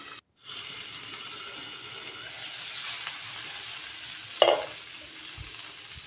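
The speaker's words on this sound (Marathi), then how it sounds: "साईडने थोडंसं तूप सोडून झाकण ठेवून मी हे दिरडं छान शेकून घेणार आहे" A dirde flatbread of varai and sabudana roasts in ghee on a lidded griddle, hissing in a soft, even sizzle with a short clink partway through.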